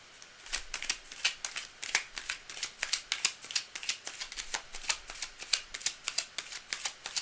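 Tarot cards being shuffled by hand produce quiet, rapid riffling bursts repeated in a steady rhythm at close range, with no talking over them.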